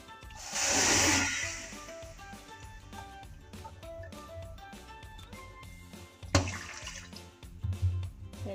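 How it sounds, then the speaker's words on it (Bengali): Water poured from a bowl into sugar for syrup in a home kitchen, a close splashing pour swelling in the first seconds and returning briefly later amid light clatter. "এর সাথে আমি এখন দু বাটি জল দেবো"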